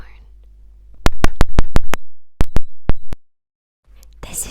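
A quick run of sharp, close taps of a microphone knocking on an iPhone, a brief pause, then a few more taps, with soft whispering around them.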